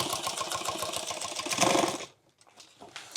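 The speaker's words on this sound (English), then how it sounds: "I'm just going to sew right along the curve here." A sewing machine runs a rapid, even burst of stitching along a curve on a large tool bag, close and steady for about two seconds, then stops, with a brief quieter whir of movement afterward.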